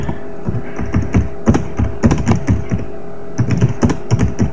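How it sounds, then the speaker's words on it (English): Typing on a computer keyboard, with quick irregular bursts of close, crisp key taps and short pauses between runs of strokes, clear and loud with no voice over them. "I can type some text into here."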